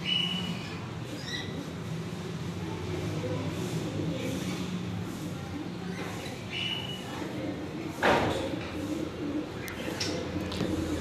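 Pigeons coo softly in the background amid a murmur of ambient noise and faint voices, with a brief thump near the end.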